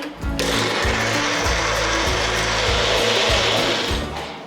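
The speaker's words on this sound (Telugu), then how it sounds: "సో ఇప్పుడు మిక్సీ పట్టుకోవాలండి" Kitchen mixer grinder whirring as it grinds curry leaves and coriander into a masala paste, a loud steady motor roar with pulsing low chugs, starting abruptly and running continuously with no talk.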